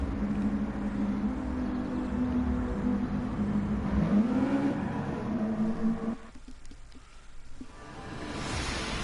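Sim racing BTCC field of touring cars, a Honda and a Peugeot among them, holding revving engines at the start of a feature race at Largo East. A steady mechanical drone rises in a rev around the middle, then drops away sharply.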